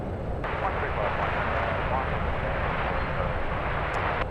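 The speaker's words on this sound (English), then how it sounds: "JetBlue heading off to JFK today," JetBlue airliner bound for JFK taking off at San Francisco, a steady distant jet roar, fairly quiet and constant throughout with no other clear sounds.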